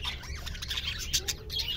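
Rainbow lorikeets in an aviary give rapid, overlapping squawks and shrill chirps over a low background hum, with no talking.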